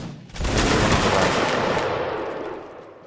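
A line of infantry fires a musket volley in a Napoleonic Wars video game, one sudden, loud, ragged crash of many shots that rolls out and slowly dies away over about three seconds.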